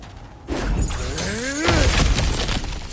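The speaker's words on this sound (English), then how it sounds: "back to smashing through things for fun and profit" Objects shatter loudly and close in the God of War video game on PS5, a burst of breaking and crashing debris that carries on over a few seconds.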